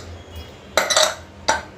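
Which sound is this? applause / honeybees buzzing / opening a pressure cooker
opening a pressure cooker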